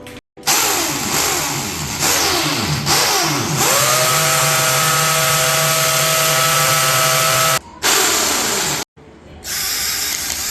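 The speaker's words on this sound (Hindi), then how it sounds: "ड्रिल हो रही है, ड्रिल वाला बंदा आ गया है।" A power drill runs during home renovation work in a new home's kitchen setup, loud and close, its whine climbing and then holding a steady pitch over several seconds, with brief stops and restarts near the end.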